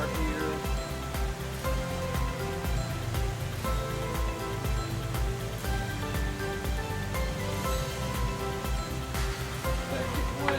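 Water runs steadily through flushing muffs on a Suzuki outboard motor under repair, a dense continuous rushing and splashing that stays loud and even throughout, with no talk.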